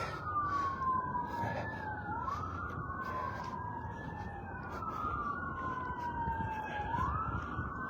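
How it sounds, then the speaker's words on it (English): An ambulance siren on an evening street wails in repeated rising and falling sweeps. It sounds moderately distant and fairly faint over low background traffic rumble. "Sounds like an ambulance."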